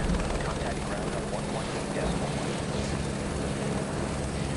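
Steady helicopter rotor and engine drone from Microsoft Flight Simulator 2024, a continuous dense roar with low rhythmic throb filling the whole stretch, with speech faintly underneath.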